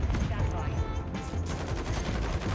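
Rapid bursts from a Rival 9 burst rifle in Modern Warfare 3 multiplayer crack loudly and repeatedly, dense and close, with game effects layered underneath.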